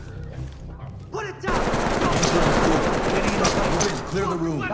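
Rapid automatic gunfire erupts in the tactical shooter video game Ready or Not, a loud sustained burst of dense shots that follows a voice and runs for several seconds before easing into more speech.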